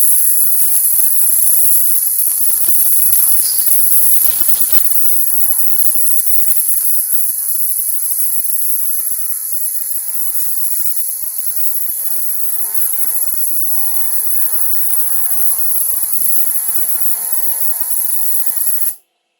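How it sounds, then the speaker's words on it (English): An ultrasonic cleaner runs while cleaning vinyl records, giving off a steady, close, high-pitched whine and electric hum that holds unchanged for the whole stretch before cutting off abruptly at the end. "Ultrasonic Cleaning is good."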